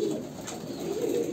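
Andhra Kalanka pigeons coo softly, a low murmuring burble close by, steady and unbroken over a brief moment without any talk.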